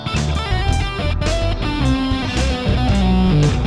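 Dense, heavily distorted music plays continuously, with a thick buzzing grit smeared over the sustained tones throughout.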